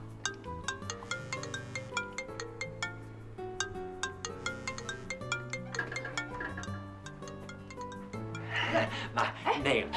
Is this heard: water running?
no